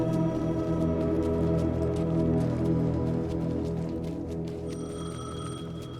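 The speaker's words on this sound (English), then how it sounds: "The payphone was ringing." A payphone rings continuously inside the video game Alan Wake 2, its bell tones sustained over dense, droning ambient music and a low background rumble, loud and steady throughout.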